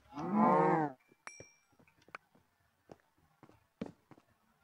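A cow in the video game Minecraft gives one loud, close moo. It is followed by a scatter of soft, sparse footsteps and clicks.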